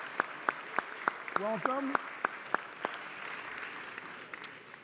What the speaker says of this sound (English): We give them a nice round of applause.